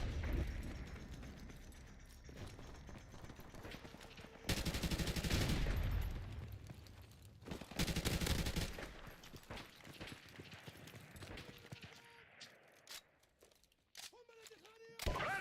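Gunfire in Modern Warfare Remastered: bursts of rapid automatic fire and explosions, with two heavy loud stretches amid quieter scattered shots and footsteps, under a player talking.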